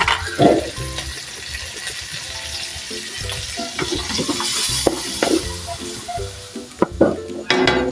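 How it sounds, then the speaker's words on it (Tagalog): Corned beef with garlic and onion sizzles and crackles in a hot pan while a utensil scrapes and stirs, with occasional clinks of metal against the pan. "magigisa tayo ng bawang sibuyas at ilalagay na natin yung ating Argentina corned beef"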